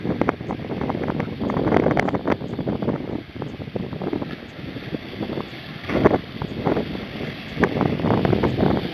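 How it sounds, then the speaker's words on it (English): Strong wind roars and gusts continuously at a beach while kayaking on the ocean, buffeting the microphone with rough, uneven rushing noise throughout. "Wind is a blowing."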